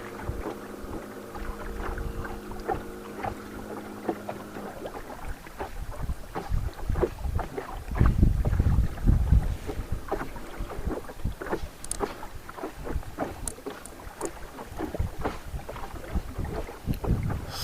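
Steady rumble of a boat motoring across a flooded lake at Oguta, with water churning against the hull and gusts of wind buffeting the microphone throughout, loud and continuous.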